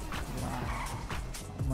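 Supercar in GTA V accelerating and skidding, a steady engine roar with tire screech rising in bursts and a louder surge near the end, close and continuous with no talking.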